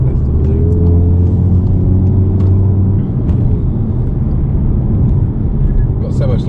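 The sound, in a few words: APR Stage 2 MK7 Golf R engine while driving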